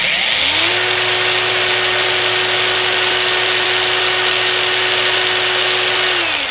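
A Xenon CDAG1845 cordless angle grinder spins up and runs at speed 3 with a loud, steady high whine, close and alone, then begins winding down at the end.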